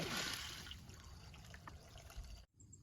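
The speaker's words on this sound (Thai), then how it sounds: "ลงน้ำลงไปจนเต็ม" Water runs into hydroponic growing boxes for lettuce, a steady close trickle and splash that fades slightly before cutting off abruptly near the end.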